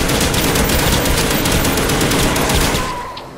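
Rapid automatic machine-gun fire from the Black Ops Zombies video game comes as a dense, loud, continuous burst of shots that fades out near the end.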